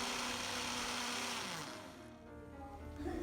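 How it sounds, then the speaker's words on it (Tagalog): An electric blender whirs as it blends kale and milk, a loud, steady high-pitched motor drone that dips briefly in pitch midway, then revs back up toward the end. "i-blend natin yung kale at saka yung gatas"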